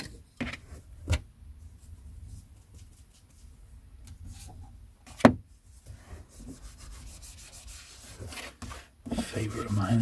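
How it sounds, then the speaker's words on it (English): The spine of a vintage paperback book is cleaned by hand, giving soft, close rubbing and brushing strokes with a couple of sharper taps. The sounds are quiet, with faint talk in places. "Let's clean the spine right up on that one."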